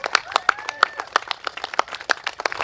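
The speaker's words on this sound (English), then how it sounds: "Let's give her a big round of applause, please." Scattered, irregular clapping at an outdoor election rally for a Jurong Central SMC candidate in Singapore; sparse, uneven claps mixed with some crowd noise, moderately loud and fairly close.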